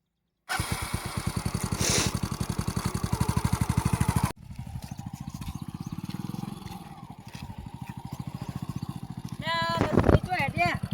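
Motorcycle engine chugging in a fast steady rhythm nearby, then idling lower and quieter, with people talking over it near the end.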